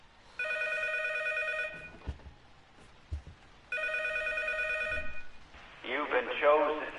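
A telephone ringing inside the horror game PT, two long electronic bell rings with a pause between, then a warbling tone, with a voice speaking in the gaps.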